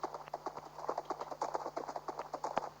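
In a video game, a horse's hooves clip-clop in a quick, steady rhythm, fairly quiet, over a low constant hum with no talking.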